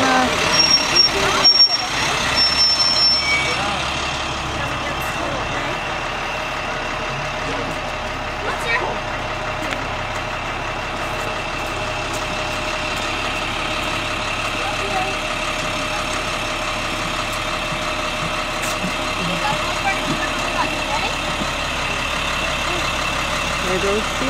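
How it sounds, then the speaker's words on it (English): A school bus pulls up and sits idling, a steady low diesel rumble with an air-brake hiss early on, heard from nearby while people talk over it. "Here comes the school bus."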